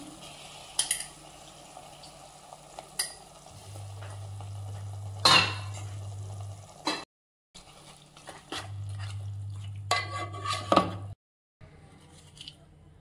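Mutton pieces go into a pan and are stirred, giving clattering scrapes and spoon knocks over a low hum, with a couple of short sharp bangs and brief gaps of silence.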